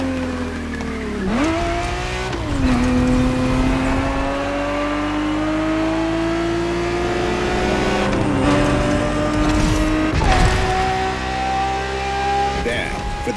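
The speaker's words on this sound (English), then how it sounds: "365 GTB4 is the perfect vehicle for you to experience Ferrari racing as it felt back in the 70s" A Ferrari 365 GTB4 races in The Crew Motorfest, its engine note climbing steadily through each gear with sharp drops at the shifts, loud and close, with occasional tire squeal between pulls.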